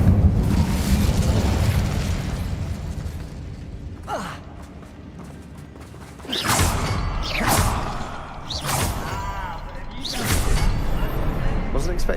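A fire spell cast in a wizard video game, with roaring bursts of flame and booming whooshes that rise and fall several times, mixed with voice sounds such as gasps and breaths.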